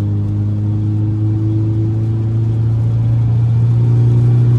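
A Ford Focus RS with an automatic gearbox, driven toward a highway exit, sends out a steady, loud engine drone with a low, humming tone that slowly rises as it accelerates. No one speaks.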